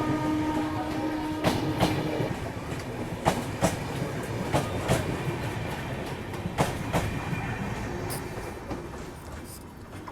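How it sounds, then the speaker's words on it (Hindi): The Seemanchal Express rolls slowly past, heard up close with steady rumbling and rhythmic clickety-clack of wheels over rail joints, broken by sharp periodic clanks. "काफ़ी स्लो रफ्तार में सीमांचल एक्सप्रेस को यहाँ से निकाले जा रहे हैं।"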